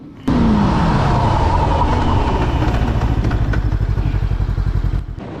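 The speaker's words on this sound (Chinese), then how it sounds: "同时呢我还对它进行了100到0的刹车距离测试， ABS 介入呢属于低频率大力度的介入，基本上就是哒哒哒哒哒" VOGE RR525 motorcycle braking hard from 100 km/h to a stop, engine and road roar loud and close, with a rapid, low-frequency ABS pulsing chatter building through the stop and ending abruptly.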